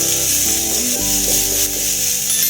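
Onions sautéing in a pan over high heat for kudal kuzhambu (boti gravy), giving a steady close sizzle and hiss with soft stirring, while sustained musical tones hum underneath.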